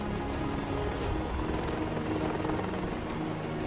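Indian Air Force helicopter flying during disaster rescue operations at Kedarnath, a steady loud rotor and engine drone that holds at an even level throughout, with no voices.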